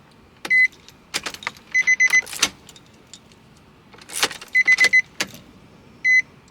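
Short electric whirs from a Nissan 350Z/G35 fuel pump priming after repeated key turns, close and fairly loud, mixed with repeating warning chimes and clicks in a quiet cabin.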